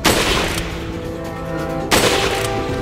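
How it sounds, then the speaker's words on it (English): An upgraded sniper rifle in a shooter video game fires two loud, close booming shots about two seconds apart, each with a long ringing tail, with no talk. "Time to go kill with my new upgraded sniper rifle."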